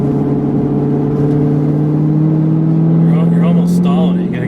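A Corvette C7 Z06 with a seven-speed manual lugs at low revs, its steady mid-pitched engine drone holding loud and close throughout while people talk over it.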